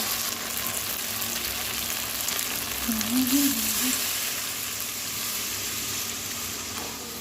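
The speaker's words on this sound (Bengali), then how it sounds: "আমি পরিমাণ মতো জল দিয়ে দেবো যেহেতু ঝোলটা বেশি হবে না" A pan of cauliflower and fish curry sizzles steadily as water goes in, with a loud, continuous frying hiss and faint stirring close by, no talking.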